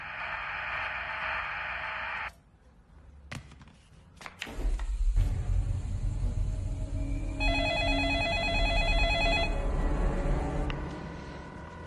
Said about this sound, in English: Pick up the phone, Noah.